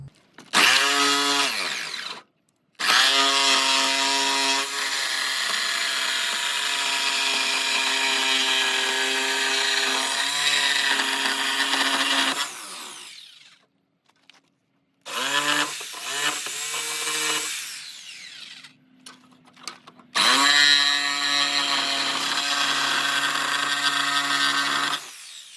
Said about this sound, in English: I did manage to find my dad's jigsaw, so I'm going to use that to try and cut out the circle.